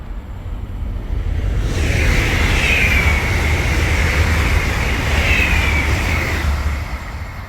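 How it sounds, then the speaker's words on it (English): A train passes by, its rumble swelling from quiet into a sustained loud roar with a faint high metallic whine, then easing off toward the end. "It's the train passing by."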